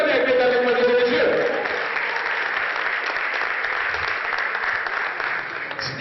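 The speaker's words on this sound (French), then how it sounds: "On applaudit très très fort tout ce panel, mesdames et messieurs." An audience at a heritage panel event breaks into loud, sustained applause that fills the room, with a voice briefly heard over the clapping at the start before it settles into a steady wash of claps.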